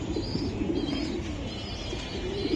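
Racing pigeons coo in a loft, soft low throaty calls rolling continuously and close, with faint higher chirps above them and no talking.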